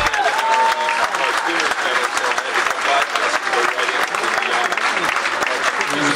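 An audience at a tribute concert gives a performer sustained, loud applause, a dense wash of clapping with crowd voices mixed in throughout.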